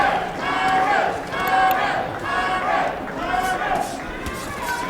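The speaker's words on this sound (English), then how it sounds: "the crowd's hollering and yelling for Myron" A boxing arena crowd hollers and yells for a fighter during a professional bout, sending loud, continuous cheering in surging waves, with a commentator talking over it.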